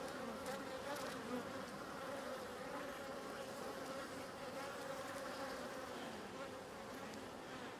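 Honeybees buzzing around an open hive that had been fitted with a bucket feeder, a steady soft swarm hum lasting throughout, fairly faint and without speech.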